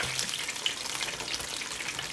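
Beer-battered fish fries in a pan, giving a steady, soft crackling sizzle with small pops throughout. No voices are heard.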